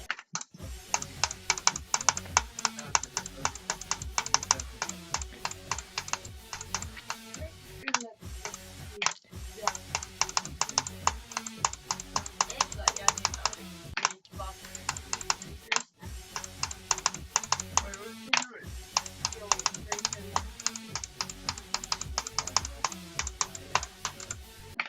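Fast typing and clicking on a computer keyboard during a game of Atomic Cannon, close and crisp, in dense bursts of rapid keystrokes broken by a few brief pauses.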